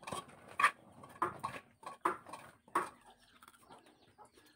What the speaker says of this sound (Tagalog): Uy, nanggukod og manok. Kita mo siyang manok.